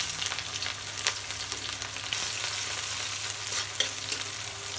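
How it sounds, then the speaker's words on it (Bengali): Onions frying and being stirred in oil in a wok: a continuous close sizzle with occasional scraping stirs, steady throughout and without speech. "পেঁয়াজ ভাজা হয়ে গেছে"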